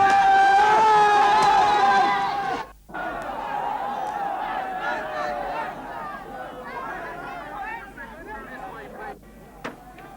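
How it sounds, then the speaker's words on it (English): Crowd clamour from the 1977 Battle of Lewisham street clash between anti-fascist protesters and police, a dense roar of many voices and shouts that drops out briefly, then returns as a slightly quieter, agitated babble with scattered yells. "the crowd stoned the police"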